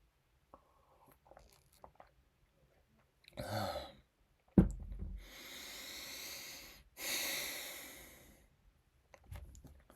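Deep breathing during a breathing break, a few long audible inhales and exhales close to the microphone, separated by quiet gaps with small mouth and movement noises.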